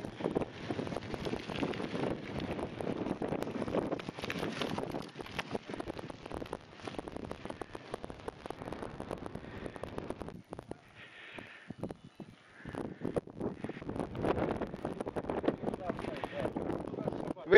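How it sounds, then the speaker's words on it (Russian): Gusty wind rushes steadily across the microphone outdoors on a hike from Halhul El-Kabir toward Nahal Darga in Israel, with people talking faintly beneath it and a brief lull midway. "Ветер нас немножко расстроил, но будем надеяться, что он будет попутный."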